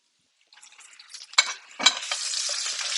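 A large spoon scrapes and splashes while basting char in melting butter in a pan, with loud sizzling building after a brief silence and sharp clinks of metal against the pan.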